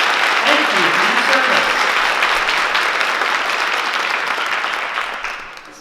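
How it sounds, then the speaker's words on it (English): An audience at a junior and senior high school treble choir spring concert gives a big round of applause for veterans and service members. The dense, loud clapping fills the whole stretch and fades slightly at the end. "One more big round of applause for all our veterans and service members."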